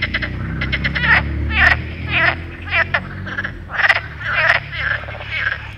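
Several frogs croak close by in rapid bursts of raspy pulses, repeating roughly every half second against a low background murmur.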